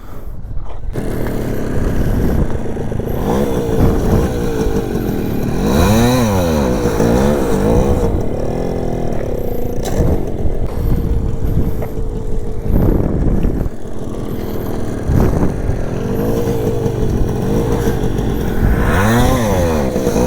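Motorcycle engine revving loudly during a wheelie practice session, with repeated rising and falling throttle sweeps over about twenty seconds, close and continuous.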